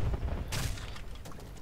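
Bursts of gunfire and explosion noise from a base-defence video game with cannons and landing troops, quick cracks over a dense, rumbling mix, moderately loud with no talk.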